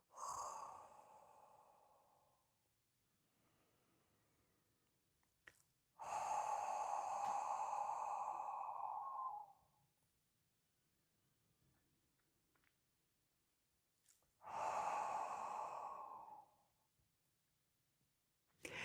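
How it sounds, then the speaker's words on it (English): Slow qigong breathing exercise done as normal breathing: three long, close breaths of several seconds each, separated by quiet pauses, with no talking. "So this one is just considered normal breathing."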